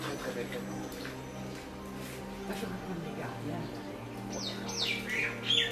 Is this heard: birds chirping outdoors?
yes